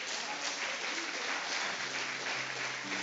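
Church congregation applauding at a worship service, a dense continuous wash of clapping hands that fills the room, loud and steady from start to finish.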